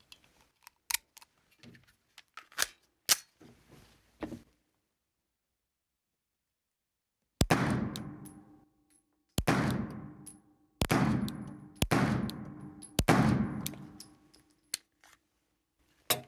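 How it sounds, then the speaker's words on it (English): Five sharp, loud pistol shots from a Stoeger STR-9 compact 9mm fired at a steady pace at an outdoor range, each crack followed by a short ringing decay; quieter clicks and handling noises come before the shots. "Now I'm going to shoot another 5-shot group at a more reasonable pace and let's see what we get."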